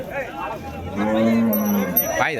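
Cattle low repeatedly at a busy cattle market in Vaniyambadi, Tamil Nadu, where a native bull and a country cow are on show; a single loud, drawn-out moo rises close by over faint market noise.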